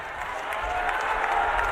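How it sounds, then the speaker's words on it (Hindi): A crowd at an election campaign rally in Kolkata's Burrabazar claps steadily, a dense wash of many hands with some cheering mixed in, sustained and fairly near throughout. "सब लोग हाथ ऊपर करके ताली बजाइए"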